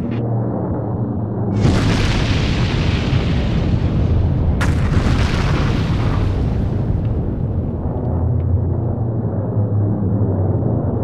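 Artillery fire in a World War II strategy game at the Barvenkovo bridgehead, a dense, loud barrage of booming blasts and rumbling explosions rolling continuously with sharp bursts around two and five seconds in.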